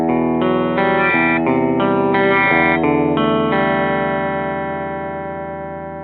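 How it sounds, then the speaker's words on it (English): An electric guitar through a clean boost pedal strikes a series of bright, boosted chords in quick succession, then lets the last one ring out and slowly fade. "just use a clean boost in between your guitar and your amp,"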